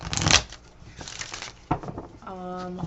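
Tarot cards being shuffled by hand, a few quick riffling and crinkling bursts followed by softer handling sounds, close and fairly quiet.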